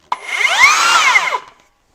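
A Bosch GKS 18V-57 cordless circular saw runs up and cuts through wood in one loud, close pass of about a second and a half, whining with a sweeping pitch before stopping abruptly.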